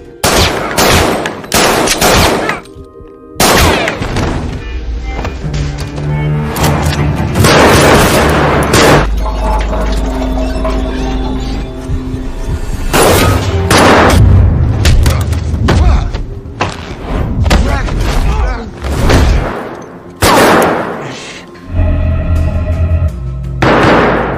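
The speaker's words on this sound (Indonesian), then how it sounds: "Emily telah membantu John dan menembak salah satu anak buahnya, Kyle." Gunfire erupts in an action film fight scene, loud sharp shots and booms in irregular bursts over music and scattered effects.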